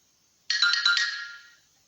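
A phone notification chime rings once: a bright, close, multi-note electronic tone that lasts about a second and fades away into silence.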